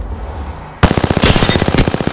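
Rapid automatic gunfire erupts loud and close in Apex Legends, a fast regular burst of shots hammering away right after a quiet lull, with sharp louder cracks mixed in.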